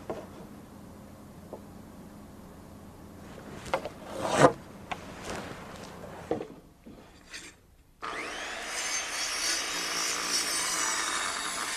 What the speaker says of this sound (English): when cutting the notches, I'm careful to saw on the waist side of the line